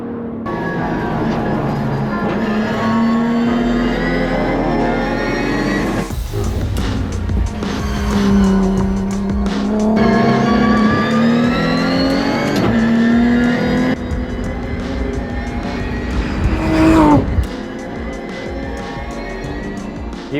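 A Nissan NISMO Z GT4 race car drives hard on a track, its engine loud and close, rising and falling through repeated revs and gear changes over about twenty seconds.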